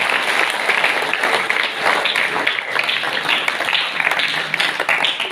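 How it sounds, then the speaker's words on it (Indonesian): Audience at a school gathering in Mojokerto applauds the teachers, a dense, steady wash of many hands clapping close by for the whole stretch, with no talk over it. "Tepuk tangan untuk mereka semua."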